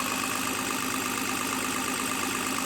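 A Toyota 2H diesel engine idles steadily, a constant close mechanical rumble with no revving and no voices.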